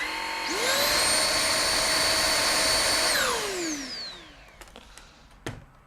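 A Xiaomi Jimmy JV83 cordless stick vacuum whirs up to a loud, steady high-pitched whine, runs for a few seconds, then winds down, followed by a few light clicks and handling knocks.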